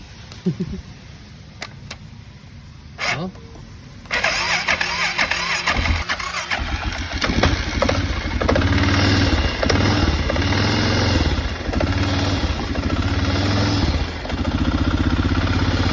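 A Honda Rancher ATV engine is started by shorting its solenoid: a few clicks and a brief crank, then the engine catches and settles into a steady, loud, close idle that runs to the end.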